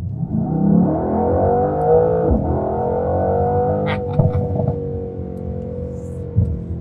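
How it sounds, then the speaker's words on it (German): A Mercedes-AMG C 63 S engine in Sport Plus mode rises in a smooth, loud rev and holds, with a couple of sharp pops and crackles near the end as the throttle drops. "zeige euch jetzt noch mal kurz, warum ich den Motor an diesem Auto so mag"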